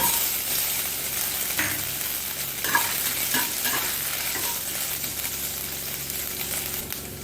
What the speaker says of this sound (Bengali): এবার আমি এই তেলের মধ্যে এই নারকেল কুচি কটা ভেজে নেব